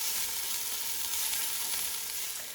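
Onions sautéing in a pan for potato vegetable soup give a continuous, even sizzle, close and moderately loud, with no voices over it.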